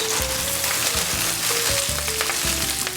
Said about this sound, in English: I'm going to go straight back into this pan. A little oil. My spinach